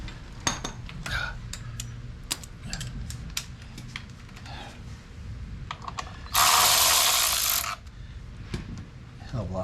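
Bolts being unscrewed during removal of a compensator on a Harley Road Glide: light metallic clicks and tool handling, then a single loud, close burst of an air or power tool lasting over a second.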